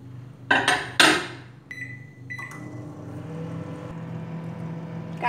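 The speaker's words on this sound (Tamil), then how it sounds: "இதை ஒரு 5 நிமிஷம் மைக்ரோவில் வேக வைக்கலாம்" A couple of clunks and two electronic beeps, then a microwave oven starts up and runs with a steady, low mechanical hum while cooking vegetables for aviyal.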